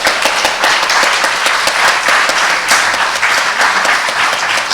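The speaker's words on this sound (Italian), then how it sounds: "Io vi prego di fare un applauso a Chiara." Audience applause for Chiara at a perfume history exhibition catalogue presentation, a steady, dense burst of clapping from a crowd that fills the whole moment at full volume.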